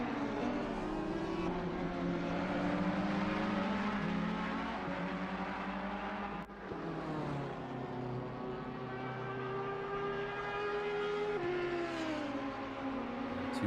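Two Ferrari race cars in Assetto Corsa Competizione at Kyalami, engines droning and shifting pitch down the front straight, steady and fairly loud with gear changes, no talk.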